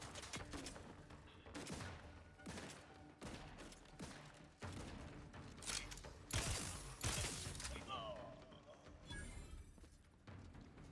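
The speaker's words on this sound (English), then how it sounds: "Who's shooting?" A brawl in The Outer Worlds 2, a sci-fi RPG, sets off a fusillade of gunfire: repeated loud broadband shots and bursts spread across the stretch, mixed with mechanical clanks and rattles.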